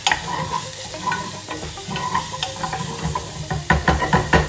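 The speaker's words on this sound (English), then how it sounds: "put lemongrass and chili first into the pan." Lemongrass and chili frying in a pan, a steady close sizzle with scraping stirs and bursts of crackle near the end.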